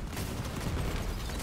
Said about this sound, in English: Oh, stop shooting me!